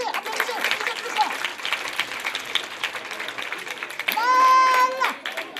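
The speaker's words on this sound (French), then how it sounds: "Applaudissez pour vous, applaudissez plus fort." Schoolchildren at a primary school in Abobo clap in bursts, busy and uneven applause mixed with shouts and chatter, while an adult voice speaks over the noise and a brief sung or whistled tone rises near the end.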